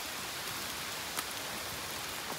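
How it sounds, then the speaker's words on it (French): Steady, diffuse hiss of rain falling continuously on a steep, windy mountain trail in the southern Vosges, with a faint patter and occasional brief louder drops, no voices. "Il y a des rafales de vent, de la pluie."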